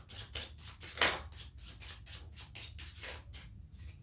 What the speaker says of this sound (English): So you see me shuffling again.